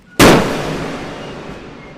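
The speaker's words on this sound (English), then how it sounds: "A man named John Wilkes Booth assassinated Lincoln by shooting him point blank in the back of the head." A single loud gunshot sound effect, a sharp crack with a long fading tail that rings out alone.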